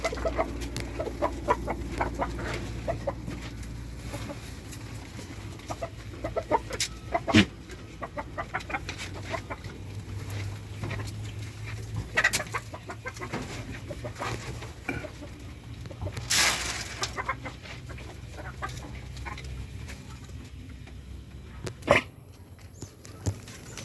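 Chickens cluck and murmur continuously nearby, with occasional sharper calls and rustling throughout, no clear speech.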